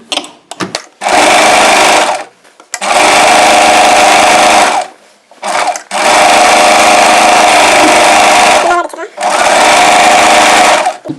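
A sewing machine stitches a frill sleeve for a layered frill chudi with a long stitch length, running in four loud, sustained bursts separated by short pauses.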